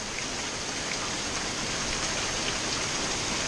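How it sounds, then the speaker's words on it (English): Heavy rainstorm pours down steadily onto ground with standing water, a dense unbroken hiss with no pauses. "This is just crazy rain."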